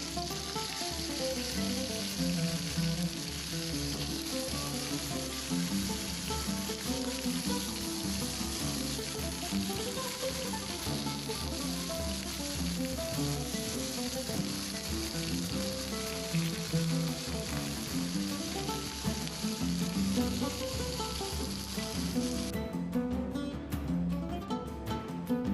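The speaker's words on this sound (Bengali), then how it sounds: "ঘি গরম হয়ে গেলে এক এক করে চিকেনগুলোকে হালকা ভেজে নিব।" Chicken pieces fry in hot ghee in a pan, giving a steady, loud, continuous sizzle with crackling throughout; it ends in a sharper burst of spattering near the close.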